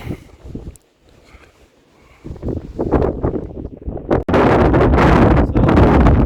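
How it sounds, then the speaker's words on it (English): Wind on Foel Fras mountain in Snowdonia at a solo wild camp, roaring in heavy gusts that buffet the microphone, dropping briefly to a lull before building into a loud, sustained rush. "Wind hasn't dropped yet"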